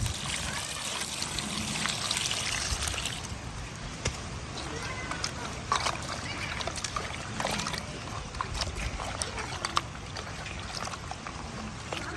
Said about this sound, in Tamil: இப்போ வெட்டி வச்ச கருவாட்டுக்கு நம்ம தண்ணி ஊற்றி அலசிட்டு